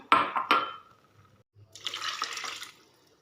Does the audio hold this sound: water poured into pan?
yes